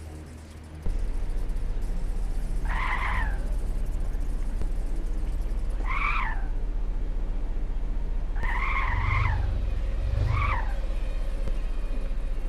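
A car driven around in a video game, with squealing tire skids in several short bursts over a steady low engine rumble.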